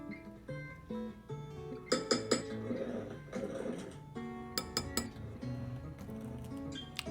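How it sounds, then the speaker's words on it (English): Fork working butter into dry cake mix in a dish, a quiet series of sharp clinks and scrapes of metal against the dish in irregular bursts, close-up and without talking. "I just use a fork to make sure that you get all the butter mixed into the cake mix."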